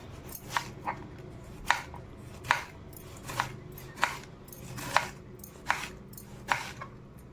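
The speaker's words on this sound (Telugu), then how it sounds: "క్యాబేజీని చాలా నైస్గా కట్ చేయాలండి పొడవుగా చీల్చుకోవాలి ఇట్లా" A knife slices cabbage finely lengthwise on a board for crispy cabbage pakodi, giving a steady run of sharp, close chopping strokes about every half second with no talking.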